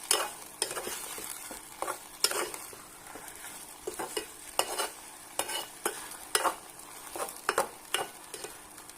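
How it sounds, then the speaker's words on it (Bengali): Ingredients frying in mustard oil in a pan, with a soft continuous sizzle broken by repeated sharp scraping strokes of a spoon stirring, close and fairly quiet. "এখন ভাজা হোক, একটু পর পর লেড়ে দেওয়া লাগবে।"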